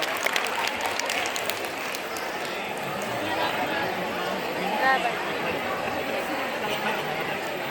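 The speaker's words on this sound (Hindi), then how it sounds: "एक बार जोरदार तालियों से स्वागत कीजिए हमारे विद्यार्थियों का" Applause from a school audience greeting students at an annual college festival, a dense steady clatter of many hands filling the room, with crowd chatter mixed in throughout.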